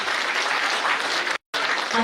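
An audience at a Brahma Kumaris New Year celebration at a Bihar retreat centre claps for Didi ji, with dense, loud, steady applause that breaks off for a moment, then resumes.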